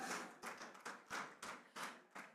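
Rhythmic clapping in unison at a formal ceremony, about six evenly spaced bursts of hand claps, fairly faint and distant.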